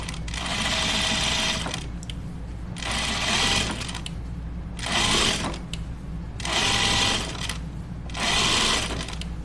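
Sewing machine stitching in several bursts of rapid mechanical whirring, separated by short pauses over a steady background hum.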